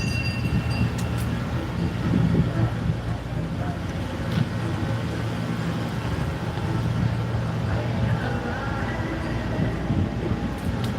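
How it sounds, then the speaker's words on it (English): A train rolls through the mountain town of Helen, Georgia, giving a steady low rumble that continues throughout, with crowd chatter and voices in the background. "Oh, there goes the train."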